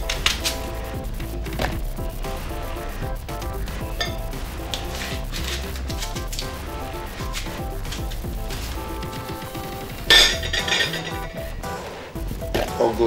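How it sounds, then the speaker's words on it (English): Onions sliced with a knife on a cutting board while making yam pottage: quick, rhythmic tapping cuts repeat steadily throughout over a continuous background, with a brief louder clatter near the end. "I'm just going to slice my onions"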